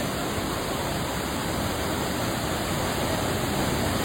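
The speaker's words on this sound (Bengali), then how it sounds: "এই যে সেই ঝর্ণা।" A waterfall at Jaflong rushes in a dense, unbroken roar, loud and close, with no other sounds rising above it.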